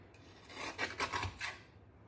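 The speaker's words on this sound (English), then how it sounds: "Do you think this trimmer will cut it?" Trimmer shearing a narrow strip, a series of rasping, scraping cuts about a second long, close and moderately loud with no talk.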